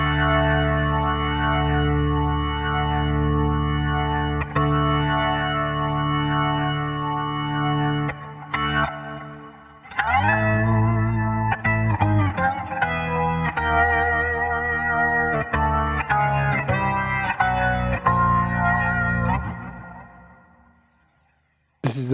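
The Valkure guitar organ app on iOS, set to the mellow model with its pedal, plays sustained organ-like chords that then turn into choppy, rhythmic stabs with a swirling effected tone before fading out.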